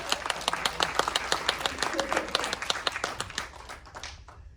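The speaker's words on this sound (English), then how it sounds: "can I ask everybody to applaud my wife for forcing me to make very good choices?" A crowd at a Pride Month horror film benefit and director interview breaks into rapid, steady applause that fills the room, then thins out near the end.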